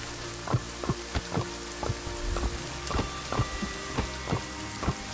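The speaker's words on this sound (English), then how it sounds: "Raining." Rain falling in the Sons of The Forest game world, a steady hiss with irregular sharp droplet taps and spatters across the whole stretch, no voices present.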